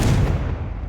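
A Confringo blast spell in Hogwarts Legacy lands as one loud, close, booming burst with a rough, rumbling body that holds for under a second.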